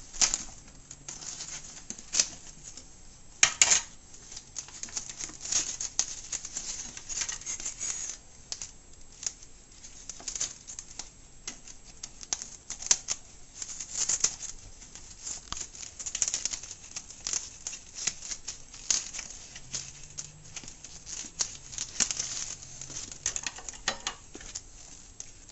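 A corned beef package being cut open, with repeated scissor-like snips and crinkly plastic rustling, close and fairly quiet, continuing in bursts without talk.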